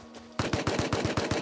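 Gunfire in the video game Rust, a rapid burst of about eight evenly spaced shots starting abruptly after a brief quiet moment, loud and close.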